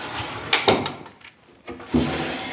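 Drawers in an abandoned aircraft hangar being pulled open and pushed shut, a few quick wooden knocks and scrapes close by in a quiet room.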